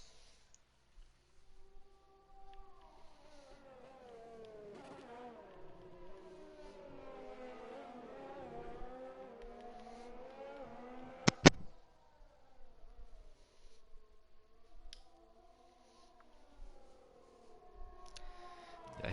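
Racing car engines in an esports racing video game, several cars whining and rising and falling in pitch as they run close together, a Ferrari among them, with a sharp burst partway through, loud and continuous.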